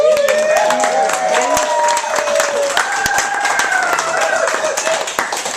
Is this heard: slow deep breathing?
no